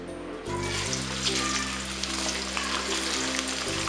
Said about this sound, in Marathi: मी इथे एका कढईमध्ये तीन ते चार चमचे तेल घेऊन चांगले तापून घेतलेले आहे आता यात आपण हा कांदा टाकणार आहोत